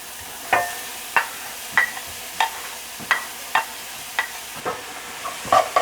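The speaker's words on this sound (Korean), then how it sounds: "기름을 조금만 두르고 야채를 전부 넣고 같이 볶아줄 거예요." Vegetables stir-fried in a little oil over high heat for potato croquettes, a steady sizzle broken by repeated sharp scrapes of a spatula against the pan at a brisk, fairly even rhythm, close and alone with no talk.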